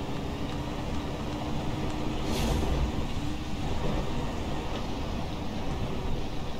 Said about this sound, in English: I feel like they changed the sound of the cars again